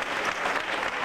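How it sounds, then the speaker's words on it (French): A brief burst of crowd applause for Sampson the Australian at a martial arts event, a dense, loud wash of clapping lasting about a second. "donnez un applaudissement pour Sampson, l'Australien, accompagné de Bill Bridges."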